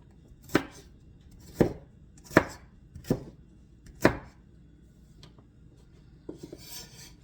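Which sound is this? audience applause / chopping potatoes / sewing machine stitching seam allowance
chopping potatoes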